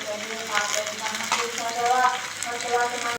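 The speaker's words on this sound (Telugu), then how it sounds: "బాగా కాగిన నూనెలో ఉల్లిపాయలు పచ్చిమిరపకాయలు వేసుకోవాలండి" Sliced onions and green chillies frying in hot oil, a close, continuous sizzle with stirring scrapes rising and falling.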